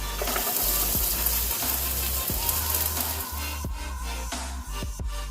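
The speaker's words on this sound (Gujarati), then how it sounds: "હવે કાંદા ગોલ્ડન બ્રાઉન થાય ત્યાં સુધી આપણે એને શેકી લઈશું તેલમાં" Chopped onions sizzle and crackle in hot oil with ginger and chillies, a loud steady frying hiss with a few soft clinks and scrapes of stirring, no talking.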